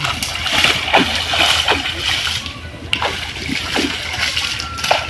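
A fishing net drawn through a pond while catching fish gives repeated sloshing splashes in an uneven rhythm, close by, with people talking over it.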